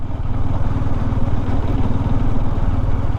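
A motorcycle revs hard while climbing a steep off-road hairpin through forest, its engine a loud, steady, throbbing drone close by and without a break.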